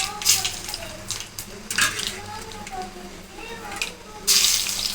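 Mustard seeds and urad dal sizzle and crackle in hot oil, tempering for a drumstick-leaf kadaiyal. Bursts of popping rise over a constant frying hiss.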